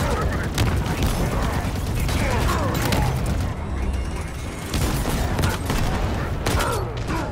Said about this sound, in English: blasting off the Covenant with heavy artillery